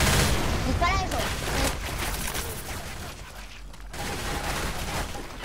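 Dense, continuous gunfire and blasts from the zombie shooter Left 4 Dead 2 fill the mix at steady loudness and dip briefly before resuming, with a voice talking underneath.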